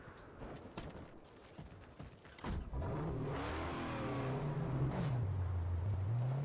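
A car engine in the Mad Max video game revs hard and loud from mid-clip onward, its pitch rising and falling steadily after a few rattly knocks and thuds at the start.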